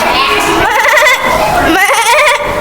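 A child imitates a goat's bleat with wavering, quavering vocal cries, two drawn-out bleats close and loud, with other children's voices audible around them in a school setting.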